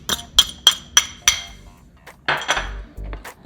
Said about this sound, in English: And keep mashing.